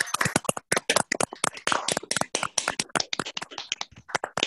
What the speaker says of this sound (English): I'm going to unmute everybody and we can all clap Greg